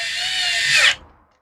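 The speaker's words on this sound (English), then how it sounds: "don't use a screw gun unless you're super familiar with the screw gun" A screw gun drives bolts into a Craftsman chainsaw, a steady loud motor whine for about a second that winds down and stops, with no voices.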